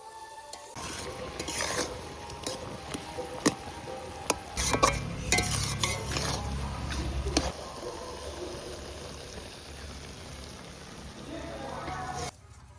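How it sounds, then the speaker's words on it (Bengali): Jujube pickle bubbling with jaggery in a pot while being stirred, clattering spoon scrapes against the pot and a soft simmering hiss, close and fairly busy before tapering off. "এবার এই গুড়ের সঙ্গে কুলটা ভালো করে ফুটিয়ে নিতে হবে"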